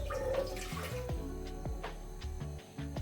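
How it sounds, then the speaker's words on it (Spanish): A cup of water is poured into a mixing bowl while making homemade flour paste for papier-mâché, a short splashing pour heard under steady background music. "A este bowl le vamos a colocar una taza de agua"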